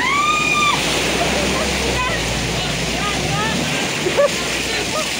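Strong floodwater waves during severe flooding in the Philippines, a continuous loud rushing and sloshing of water, with a few whistle-like tones over it and brief shouts in the background.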